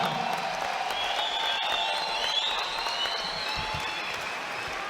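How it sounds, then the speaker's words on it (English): Arena crowd applauding two women fighters after a five-round bout, a dense steady wash of clapping with whoops and cheers rising through it. "a big round of applause to both women's fighters"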